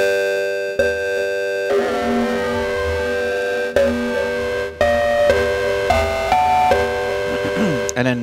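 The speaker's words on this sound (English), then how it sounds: "distortion" Distorted synth tones from the Sylo synthesizer app on an iPad, a dense sustained harmonic drone with pitch sweeps and several abrupt note changes, loud and continuous with no talking.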